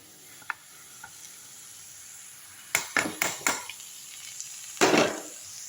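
Cooked, separated rice tipped into a pan of fried red cabbage for cabbage rice, giving a few close clattering bumps and scrapes against the pan over a faint background hiss.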